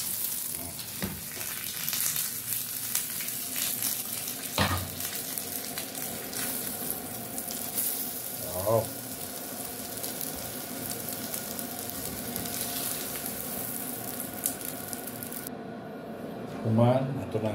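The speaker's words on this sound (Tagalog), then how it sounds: "Ato na pirtuhon diri ang bahaw" Leftover rice fries in a pan with a steady close sizzle, broken by occasional stirring scrapes, while a voice talks at times.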